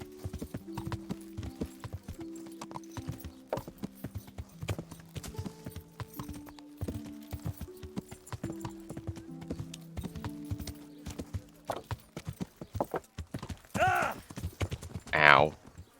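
Horse hooves clip-clop steadily in the Kingdom Come: Deliverance video game, a continuous rhythmic trot under background music, with a brief whinny and voices near the end.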